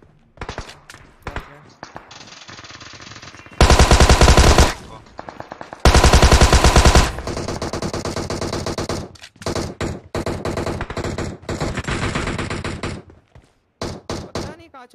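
Automatic rifle fire in the mobile battle game PUBG Mobile comes in loud, dense bursts and single shots, up close, with longer sustained volleys and gaps between, while players talk over it.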